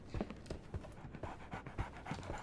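A dog pants in the Sherlock Holmes The Awakened video game, set in London, with quick rhythmic breaths repeating steadily and up close, no talking over them.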